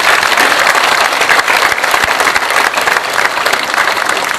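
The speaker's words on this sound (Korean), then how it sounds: "박수로서 환영해 주시면 대단히 고맙겠습니다." A hall audience at a memorial ceremony in Seoul applauds to welcome standing advisers, a dense, loud, steady wash of clapping with no break and no voices over it.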